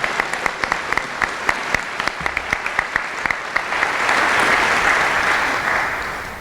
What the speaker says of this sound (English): Let's give them one more round of applause as they return to their seats